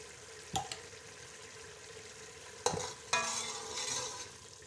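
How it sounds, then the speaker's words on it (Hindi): Ground spices, turmeric and dried coriander, fry in a pan while a curry is cooked. There is a soft, steady sizzle close by, with a few sharp clinks and scraping stirs that briefly swell the frying noise. "मसाला हमारा फ्राई हो गया।"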